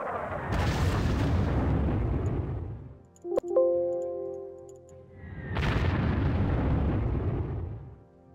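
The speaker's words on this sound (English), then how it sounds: "Look at these artillery, they're all ready to fire now." Artillery fires in the Panzer Corps World War II strategy game, two heavy booming blasts with long rumbling tails, separated by a brief mechanical clank and tone.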